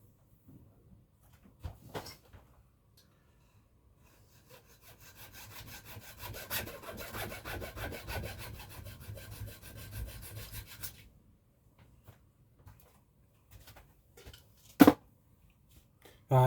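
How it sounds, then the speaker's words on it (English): Small pad saw cutting a piece clamped in a large bench vise, a run of close rasping back-and-forth strokes lasting several seconds, with scattered knocks and handling clatter before and after. "And I'll just cut this off in my big bench vise. Just got a little pad saw."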